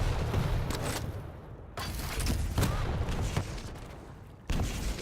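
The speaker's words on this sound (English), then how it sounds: "He doesn't want to go into that barrage of rockets." Rocket launcher fire in a Quake duel: repeated booming blasts and explosions, close and loud, landing at irregular intervals over continuous game noise.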